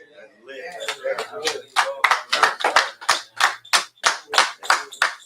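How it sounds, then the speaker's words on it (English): Rhythmic clapping by a few people in an interview setting, starting ragged under talk and settling into a steady, close beat of sharp claps. "let's clap to that"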